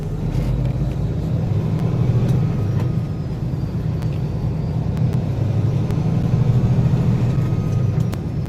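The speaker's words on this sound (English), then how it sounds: "traffic decides to start moving" Road traffic beginning to move on a drive from Santa Rosa, New Mexico toward Plainview, Texas: a loud, steady low engine rumble and whir from inside a vehicle, with faint clicks over it.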